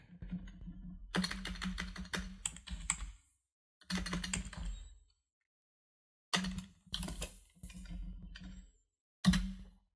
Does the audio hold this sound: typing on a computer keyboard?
yes